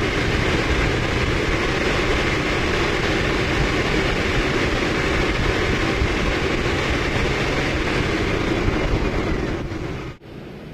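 A car engine held at about 2500 rpm during a mass airflow sensor test for fault code P0101 gives a loud, steady, close roar that holds evenly for ten seconds, then drops off near the end.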